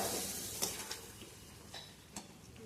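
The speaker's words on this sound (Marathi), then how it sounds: "दूध घातले, आता हलवून घेऊया।" Semolina sheera cooking in ghee gets stirred in a pan after milk is added: a faint soft bubbling with a few scattered light clicks and scrapes of a spoon against the pan.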